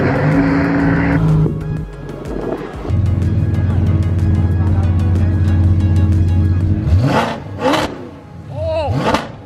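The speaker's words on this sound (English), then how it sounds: "This is a supercharged Huracan." Supercharged Lamborghini Huracan at a car event: engine notes hold steady and then rise, with sharp revving sweeps and passing car sounds near the end, and a bit of crowd noise in the background.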